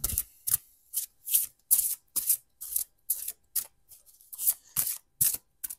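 Rune cards being shuffled for a Pisces divination reading, a series of about fifteen short crisp riffling bursts at a steady rhythm, close and fairly quiet, with no talking.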